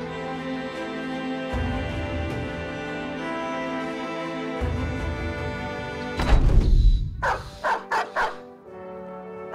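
Dogs bark and yelp over layered music in the fantasy strategy game Battle Brothers, a loud burst of several sharp barks clustering near the end after a stretch of steady music.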